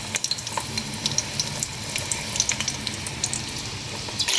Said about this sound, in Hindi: ये प्याज फ्राई हो रहा है